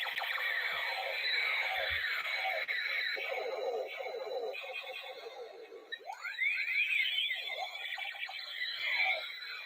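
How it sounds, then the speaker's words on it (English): Sci-fi ray gun effect: a sustained flurry of sweeping electronic zaps and warbling laser tones, rising and falling pitches overlapping continuously for several seconds, loud and busy with no voices. "We'll do the ray gun noise for the 56 likes"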